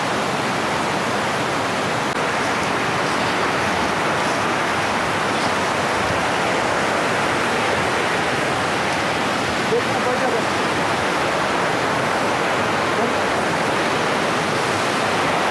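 Steady, loud rushing water fills the whole clip, a continuous broadband roar like a nearby stream or small waterfall in dense forest, with no pauses.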